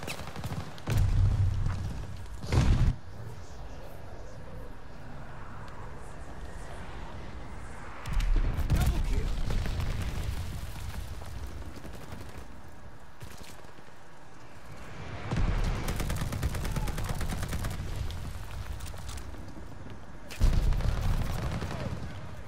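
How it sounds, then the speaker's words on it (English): Weapon gunfire in the video game Call of Duty Vanguard rattles in sharp shots and extended volleys, with a steady din of game sound underneath between the louder bursts. "Shoot the weapon."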